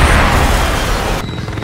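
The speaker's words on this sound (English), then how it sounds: "We've seen like 3 or 4 choppers get shot down," Helicopter being shot down in the action film Extraction 2, a loud sustained roaring blast of explosive noise that cuts off abruptly near the end, leaving a lower rumble.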